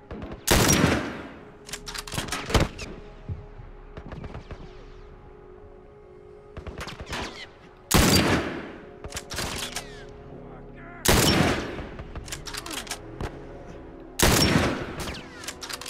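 Loud, sharp gunshots from The Last of Us ring out in four widely spaced bursts, each followed by a decaying tail, with quieter game ambience and scattered thuds between them.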